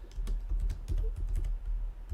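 Fingers type steadily on a computer keyboard, a run of close, rapid key clicks in short bursts with brief pauses, no voices.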